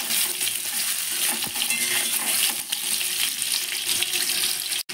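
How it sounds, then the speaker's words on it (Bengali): Potatoes crackling in hot mustard oil: a loud, unbroken sizzle with faint scraping and clinks from stirring, cutting off abruptly right at the end. "আলুগুলো আমি ভালো করে ভেজে নেব"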